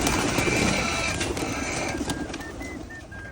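Racing pigeons coo steadily inside a loft, soft repeated coos layered over a dense, constant background hum and rustle, with faint higher chirps near the end.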